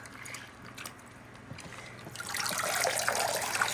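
Fertilizer water pours onto a grow-room plant, a soft trickle that swells into a louder steady splashing and soaking, with fans humming in the background and no talking.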